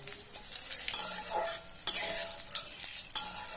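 Oil sizzles steadily with sharp crackles and pops as whole garam masala, two dried red chillies and two bay leaves fry, broken by a few scraping stirs against the pan; no one speaks.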